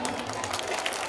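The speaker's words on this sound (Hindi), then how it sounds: "एक बार ताली बजा दो जोरदार सही वक्त।" Audience at a devotional gathering clapping together, a dense, loud burst of applause mixed with crowd noise and some voices underneath.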